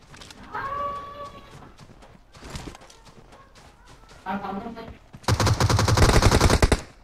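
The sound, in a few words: gunfire in PUBG video game on Vikendi map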